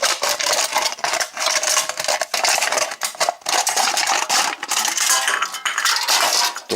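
Aluminum drink can being cut with metal snips, a continuous bright scraping and crinkling of thin metal, close and fairly loud with brief pauses, no talking.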